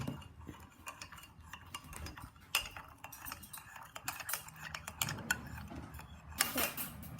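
A spoon stirs chocolate milk in a cup, tinkling and clinking steadily against the sides in quick irregular taps, close and moderately loud, with brief louder knocks.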